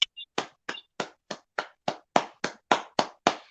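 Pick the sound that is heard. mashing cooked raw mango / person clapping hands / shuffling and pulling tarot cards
person clapping hands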